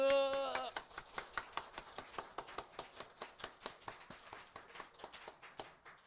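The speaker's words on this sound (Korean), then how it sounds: "하나님 앞에 감사의 박수 한번 치고 갑시다." Church congregation clapping in thanks during a Sunday worship service, steady rhythmic unison claps about four per second, sharp and evenly spaced, fairly quiet in a reverberant room, with a brief voice at the start.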